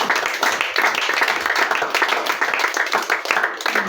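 A church congregation claps and applauds in praise of the Lord, a dense, steady wash of many hands lasting several seconds, fairly loud and close, with faint voices mixed in.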